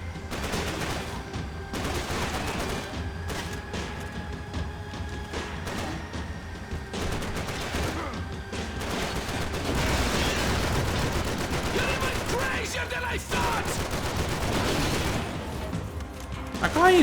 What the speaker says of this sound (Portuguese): Eu dei uns 50 tiros nele